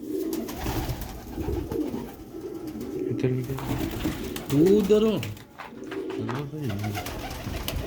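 Sialkoti Ali wale pigeons cooing close by: several throaty, rolling coos rise and fall in short bursts, interleaved with someone talking over them.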